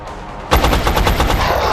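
Gunshots in XCOM: Enemy Unknown, a sudden loud burst of rapid automatic fire starting after a quiet half second and rattling on evenly, close and alone.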